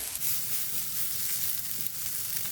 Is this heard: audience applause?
no